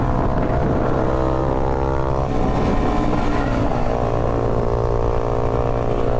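A motorcycle engine drones steadily and loudly while being ridden, its pitch shifting slightly partway through, with no voices over it.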